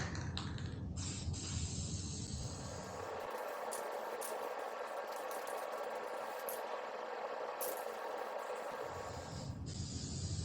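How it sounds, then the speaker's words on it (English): Aerosol can sprayed onto the backs of playing cards, a steady continuous hiss filling the whole stretch, close and even. "And immediately upon spraying this, you can tell the fumes should probably be avoided."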